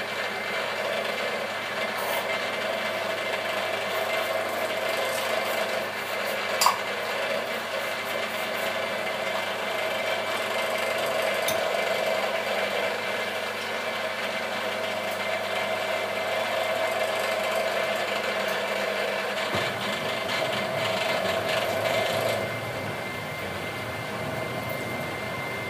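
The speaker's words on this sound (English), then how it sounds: "Now we want to be drilling this on a slow speed," A steady, continuous mechanical whir of a drill running at low speed, close and unchanging for a long stretch before tapering near the end.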